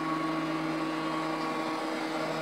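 A robot vacuum cleaner runs with a steady, even motor whine and whirring hum, close by and constant, with no other sounds.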